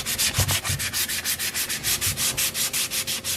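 A car driveshaft being hand-sanded during a universal joint replacement, a steady rhythmic back-and-forth rasp of about a dozen even strokes, close and fairly loud with no talking.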